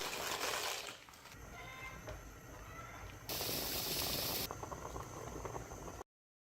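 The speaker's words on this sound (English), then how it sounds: "Take 2 cups of raw pasta of your choice and boil it until it's al dente." Water boils hard in a pot as two cups of raw pasta cook toward al dente. A steady, close, rushing bubble with no speech rises briefly louder partway through.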